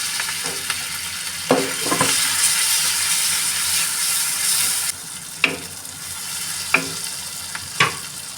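Pav buns toast in oil and butter with masala on a hot griddle, a steady close sizzle broken by a few sharp scraping strokes, with no voices.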